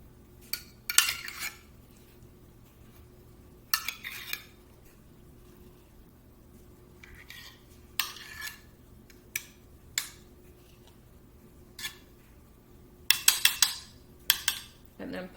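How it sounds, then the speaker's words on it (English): A spoon scoops sour cream into a half-cup measure in a home kitchen, giving scattered metallic clinks and taps against the cup, separated by quiet gaps. "take sour cream and put it in my half a cup"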